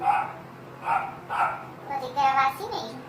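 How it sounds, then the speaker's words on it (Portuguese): A dog barks in a home in a few short, evenly spaced bursts, close and moderately loud, with a voice mixed in among them. "Poxa, cachorro, não vai ficar quieta,"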